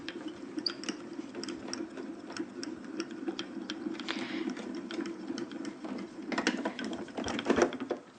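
A die-cutting machine running coconut white card and a craft die through, heard as a steady mechanical hum with light ticking and clicking, close and moderately quiet, building slightly toward the end.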